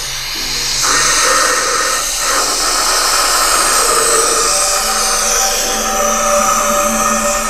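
Inside the cabin of a diesel car, a loud steady broadband roar of engine and road noise fills the space, with a faint tonal whine in the background and no voices.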